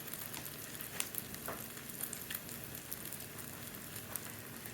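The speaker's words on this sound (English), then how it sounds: "sounds good, huh? A little sizzle." Steady crackling sizzle of French toast frying in a pan, continuous and close, with occasional sharper pops over the hiss.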